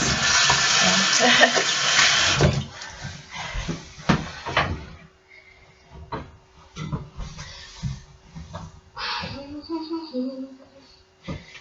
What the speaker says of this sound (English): I'm going to still wash my hands